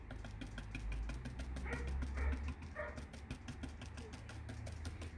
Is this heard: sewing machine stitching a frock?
no